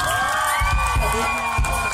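A crowd cheers and whoops briefly, with a high shout carrying over a noisy, reverberant hall.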